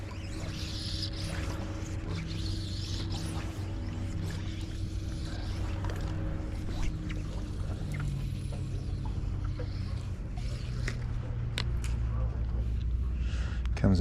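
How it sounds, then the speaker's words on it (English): Boat passing on open water while fishing: a steady low engine drone with a faint, even hum that holds for the whole stretch, slowly shifting in tone under light wind and water noise. "Comes a boat."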